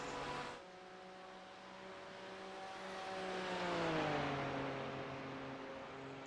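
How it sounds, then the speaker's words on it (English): BMW race car engine in the iRacing sim, a sustained harmonic engine drone that swells and bends downward in pitch as the car passes, steady and moderately loud with no talk. "Here comes the BMW of Mitch as he's making his way around the last few turns of the track"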